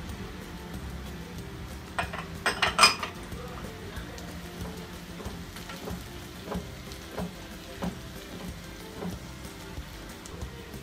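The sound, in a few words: cashews and raisins frying in a pan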